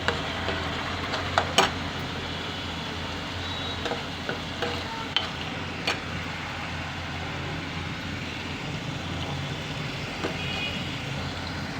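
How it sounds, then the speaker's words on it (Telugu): Raw shrimp fry in hot oil in a pan, giving a steady, even hiss of sizzling with a few sharp crackles and clicks early on, heard close with faint background traffic rumble. "వేసుకున్నామమ్మా చూడండి వేగుతుంది"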